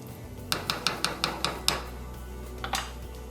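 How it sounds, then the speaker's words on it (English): A metal utensil scrapes and knocks against the bottom of a pan of coconut curry oxtails in a quick series of about seven sharp clinks, then two more after a pause, close with no talking. "Just want to scrape the bottom of the pan here just to make sure you pick up all them flavors"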